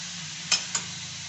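A spoon stirs and mixes a dry radish stir-fry in a hot pan, giving two quick scraping clinks over a steady soft sizzle. No one talks.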